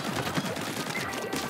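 Missiles launch in rapid succession in the Splatoon 3 game, a dense, fizzing flurry of pops and whooshes at moderate volume that fills the moment.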